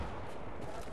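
Gunfire in the video game Battlefield 4, China Rising expansion, a short dense burst of shots lasting under a second, loud and close.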